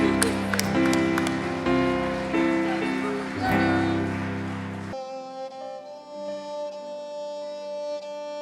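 A church audience applauds for about five seconds over sustained music, then the clapping stops abruptly and the music carries on alone, quieter and steady.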